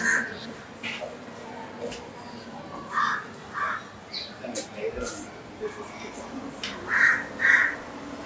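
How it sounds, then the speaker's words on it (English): A crow tangled in kite thread caws in a series of short, hoarse calls spaced a second or two apart, fairly close, over a quiet outdoor background with light rustling. "The crow flew down to the ground and started to pick at the thread by itself."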